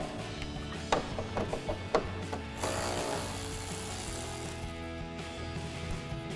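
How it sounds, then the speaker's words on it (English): A hand ratchet clicks while loosening a 10mm bolt at the bottom of a 2020-2023 Silverado grille, a quick run of close clicks followed by a steadier grinding mechanical whir, with no talk. "take a 10mm bolt out of the bottom"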